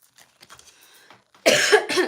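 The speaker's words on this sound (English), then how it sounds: "I'm coughing" Soft, faint talk followed by a sudden loud, close cough in two harsh bursts.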